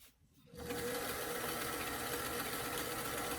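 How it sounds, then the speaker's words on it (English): A sewing machine runs a continuous straight stitch at a 2 to 3 stitch length while sewing a doll hat brim, a steady close mechanical whir that starts after a brief quiet moment and holds evenly. "Now I have my stitch length set at a 2 to 3 on my sewing machine straight stitch."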